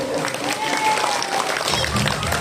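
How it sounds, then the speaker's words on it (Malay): Applause from a mostly female audience at an Islamic sermon for the Prophet's birthday (Maulid), a short steady burst of clapping mixed with voices and a brief whistle-like tone. "Tepuk tangan ibu-ibu."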